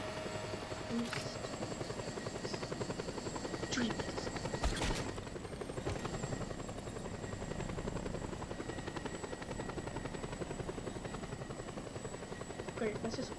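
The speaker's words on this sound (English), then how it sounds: "Grapple onto the helicopter's hull and hang on until you reach the destination." Helicopter in the video game Just Cause 2, a steady rapid rotor chop throughout with occasional clicks and bangs, while a person talks over it.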